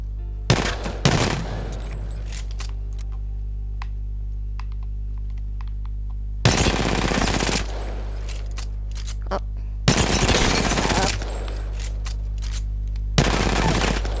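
RE-45 pistol firing in Apex Legends, short rapid bursts of gunfire in four separate volleys over a constant low hum, loud and close with no talk.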